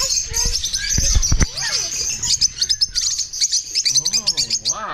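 Lovebirds and lory parrots chirp and tweet in a bird shop. The calls are loud, close and overlapping, with a few low thumps early on and rhythmic warbling trills toward the end.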